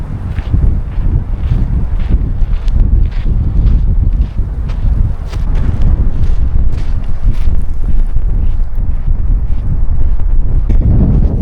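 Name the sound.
wind blowing over a bay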